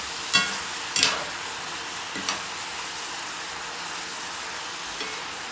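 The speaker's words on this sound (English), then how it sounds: "it's browning up pretty good here now" Beef browning in a pot for beef soup gives a low, even sizzle under a few sharp scrapes and knocks from a utensil stirring near the start, with no talk.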